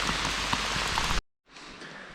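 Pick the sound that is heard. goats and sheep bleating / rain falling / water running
rain falling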